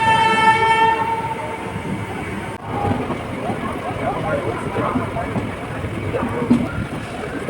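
A train rumbles and hums at a busy platform at Howrah station, where a Vande Bharat train stands. A drawn-out horn tone sounds at the start, and background voices blend into the continuous rail noise.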